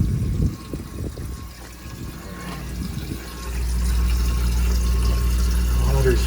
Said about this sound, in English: Water's filling.